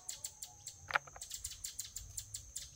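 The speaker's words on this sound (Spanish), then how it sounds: "Oye, los pajaritos." Small birds chirp in quick, regular high-pitched notes in a bean field, faint and steady, with one brief lower call partway through.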